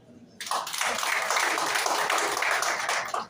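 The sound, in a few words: audience applauding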